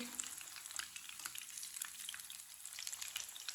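Pakoras frying in hot oil give a steady, soft, dense sizzle with scattered small crackles and pops, quiet and continuous throughout with no talking.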